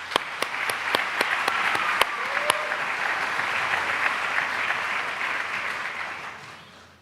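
Applause at a corporate awards celebration, beginning with a few sharp, distinct claps that swell into sustained clapping from a large audience, then fading out gradually toward the end.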